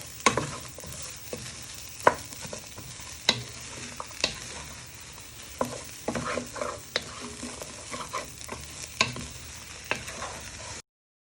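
Vegetables for hot and sour soup frying in a pan, a soft steady sizzle punctuated by irregular scraping and tapping of a utensil as they are stirred, close and without speech.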